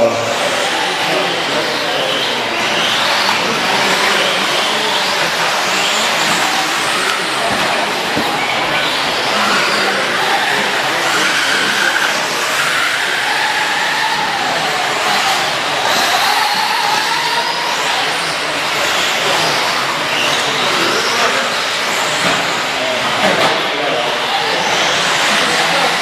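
Electric 4WD RC buggies, including a B4-4 and a Durango, race around an indoor RC raceway in a December A-Main, a steady whining motor buzz throughout, rising and fading as cars pass, under a commentator's voice.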